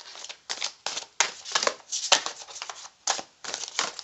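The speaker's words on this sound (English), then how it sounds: "See what I mean about these cards being really difficult to shuffle?" A deck of tarot cards being shuffled by hand, with about ten quick riffling bursts in an uneven rhythm, close and fairly loud, with short gaps of near silence between them.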